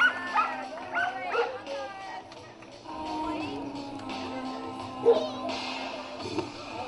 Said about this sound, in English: Whenever there's a pool around, he just doesn't stop barking.